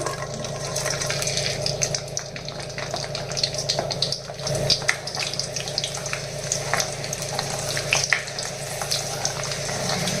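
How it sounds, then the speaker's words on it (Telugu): Peeled garlic cloves frying in hot oil: a steady, close crackling sizzle with a watery hiss and scattered pops, fairly quiet and continuous, with no talking. "ఇప్పుడు మనం పొట్టు తీసి పెట్టుకున్న వెల్లుల్లి రేకలు వేసేసుకోవాలి"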